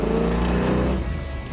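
Plymouth 'Cuda V8 with a four-speed, its carburetor secondaries opened, revving hard up close with a loud, steady low roar that eases slightly after a second.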